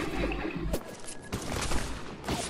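Rapid, dense volleys of gunfire in a Spec Ops: The Line multiplayer team deathmatch on the Dockside map, loud and close, with sharp broadband bursts repeating throughout.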